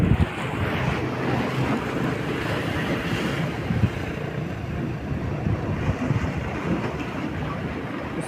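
Sea surf churning along the Odisha coast where someone is bait fishing: a continuous loud wash of breaking waves and wind buffeting the microphone, with no voices.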